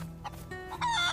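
Chicken clucking in the survival video game DayZ, a few short, close clucks and squawks in quick succession with no talking over them.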